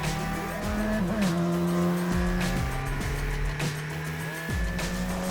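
A Radical SRT race car being driven on a track, its engine loud and close, revving up and dropping repeatedly through a series of quick downshifts.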